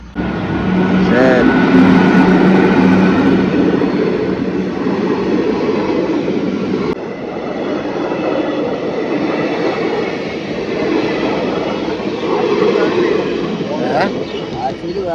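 A train rumbles past with a steady, loud roar of wheels and carriages, while people talk over the noise.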